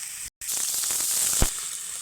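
Onions sizzle hard in hot oil in a pan over a strong flame, a dense continuous frying hiss broken by a brief cut, with a single sharp knock from a stirring spoon partway through.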